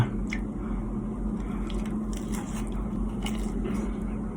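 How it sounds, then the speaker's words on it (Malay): Biting into tahu bergedil, large stuffed fried tofu, with soft squishy crunches and faint crackles close to the mic over a steady low background hum. "ni aku nak try tahu bergedil"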